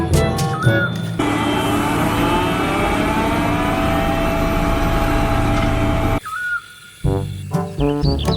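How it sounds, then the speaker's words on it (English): A road roller's engine runs as a loud, steady mechanical drone for about five seconds, framed by brief tonal whistle-like sounds before and after it. "Road roller."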